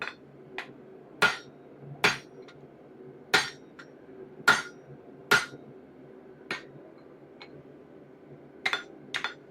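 Sharp metallic hammer blows strike a drift to knock it out of an axe head, about a dozen irregularly spaced ringing hits, close and loud with quiet pauses between, no talking.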